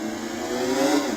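A racing motorcycle engine in the game Riding Spirits 2, holding a loud, steady high-revving whine that climbs slightly, heard alone.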